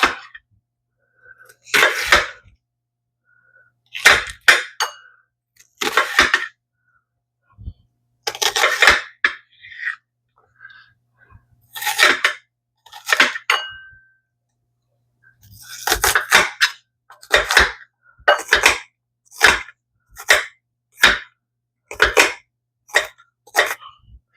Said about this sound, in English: we need to chop up our onion